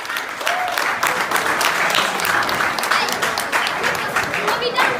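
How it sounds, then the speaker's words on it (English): An audience at a sermon event applauds for Dr. Hindika, a steady, dense round of many hands clapping that holds for several seconds with faint voices mixed in. "Please, a round of applause for Dr."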